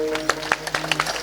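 Audience at a kirtan during a samadhi ceremony in Alandi clapping in sharp, fairly regular hand claps over a steady sustained tone, moderately loud and brief.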